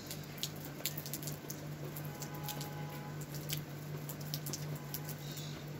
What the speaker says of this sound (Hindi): सुबह से ना बारिश होते जा रही है